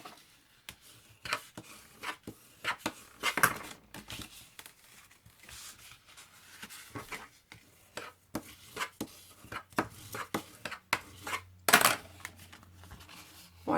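Paper strip being creased into folds for a Christmas album, giving quiet, close, irregular sharp taps and rubbing scrapes spread through the clip.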